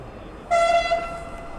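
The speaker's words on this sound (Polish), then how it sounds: "O, już jedzie lokomotywa, zaraz zobaczymy, jak podłączą jeszcze do tego pociągu." A locomotive sounds a loud, steady horn blast at Warszawa Wschodnia station, a harmonic-rich tone lasting about a second over the rumble of the platform.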